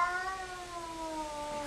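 A cat in a home meows in a drawn-out, high, wavering call, close and fairly soft over a steady background hiss, with no talking.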